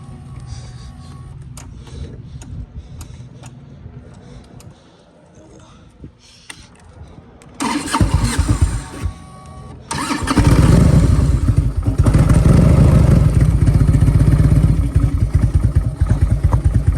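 A 1998 custom-built Harley ultra classic motorcycle engine cranks and catches, then settles into a loud, steady idle with a rough mechanical rattle, close by, after a quieter stretch of background noise.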